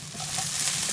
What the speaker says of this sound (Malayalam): ഇനി ഇതിലോട്ട് നമുക്ക് 1 ടീസ്പൂൺ കടുക് ചേർത്ത് പൊട്ടിച്ചെടുക്കണം